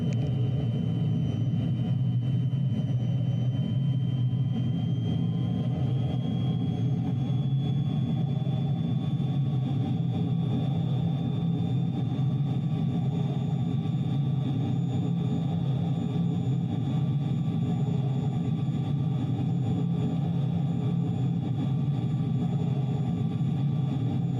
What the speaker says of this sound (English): let's take it up and get it to spin for you, and then we'll blow the engine